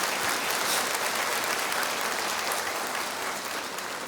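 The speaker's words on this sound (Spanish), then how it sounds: "aplauda fuerte al Señor" Steady, loud applause from a church congregation, continuous throughout with no voices standing out.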